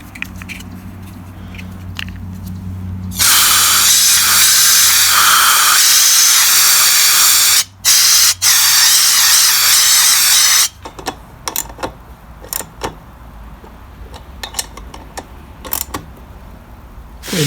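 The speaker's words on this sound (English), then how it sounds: "I'm able to blow air through here. I'll show you. I've got a little duster here I'm using." A can of compressed air duster hisses loudly through a Homelite 200 mph leaf blower, a sustained close blast lasting several seconds with two brief breaks, surrounded by quieter handling clatter.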